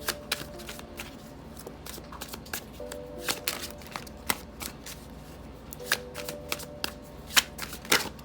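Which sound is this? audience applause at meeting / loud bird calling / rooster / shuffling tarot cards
shuffling tarot cards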